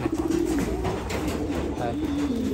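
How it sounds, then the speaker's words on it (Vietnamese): Young pigeons about three weeks old cooing up close in a loft, soft throaty warbling coos repeating continuously and fairly loud over a noisy, busy background. "Đây là chim bồ câu ra ràng mọi người."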